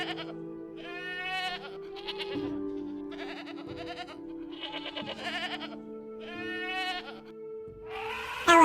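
Sheep bleating in a rapid series of wavering calls, about six separate bleats in close succession, loud and near, with no talk over them.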